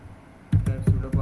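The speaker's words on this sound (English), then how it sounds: "So type sudo." Keys on a computer keyboard clack as a command is typed into a Linux terminal: four distinct, fairly loud keystrokes in quick, slightly uneven succession after a brief quiet moment, heard close by.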